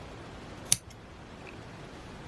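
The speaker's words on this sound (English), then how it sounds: "taking our scissors again, we're just going to cut the tops of those loops" A single crisp snip of scissors cutting through the top loops of crocheted yarn on a handmade thistle, quiet and close against a hushed room.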